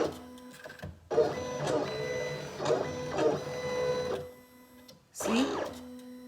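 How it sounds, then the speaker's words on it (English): A Silhouette Cameo 4 cutting machine cuts felt with a rotary blade, making motorized whirring runs with short pauses and carriage shifts between them. The machine is close and heard alone. "It's just cutting this felt."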